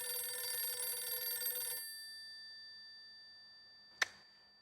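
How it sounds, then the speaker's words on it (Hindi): A telephone bell rings loudly and continuously for nearly two seconds, then cuts off, leaving a quiet room; a single sharp clang or ping sounds a couple of seconds later. "फोन बज रहा है, सुनिए"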